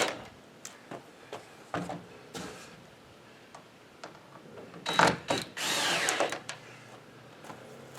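A power drill drives screws into a wall panel during assembly of a Bugout Bungalow, in short close whirring bursts separated by clicks and handling noise, then one longer sustained run near the end.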